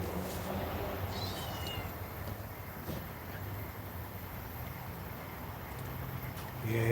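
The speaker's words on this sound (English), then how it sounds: "you can hardly hear its meow." A small cat gives a few faint, thin meows against a quiet, hissy background, with no other clear sounds.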